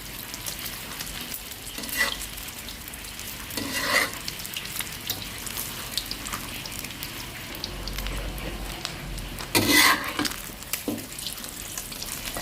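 Oil crackles and sizzles steadily in a pan as a thick omelette fries, with a few louder scraping and clattering bursts from utensils along the way.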